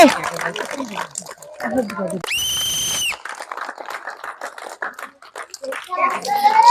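An audience at a village ball-rolling contest claps for a contestant, with scattered hand claps under children's chatter and a brief tonal electronic burst in the middle.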